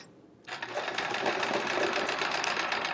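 Domestic sewing machine starting up and running steadily during free motion quilting on a chevron quilt, a fast continuous mechanical whir close by, with nothing else over it.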